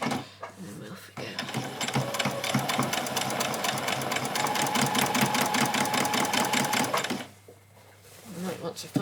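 A sewing machine stitches a seam on a child's dress in a fast, even run of rapid mechanical clicks lasting several seconds before stopping, with a voice talking at the start and after the stitching ends.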